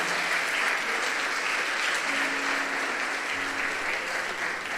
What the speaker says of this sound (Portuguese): Aplauda Jesus pela vida desse lindo, maravilhoso.